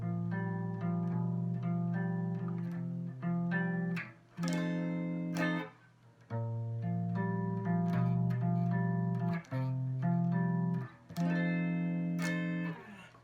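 A single instrument plays the intro of a piece in a music lesson: sustained chords change in a steady rhythm, close and clear, with brief pauses between phrases and no talking.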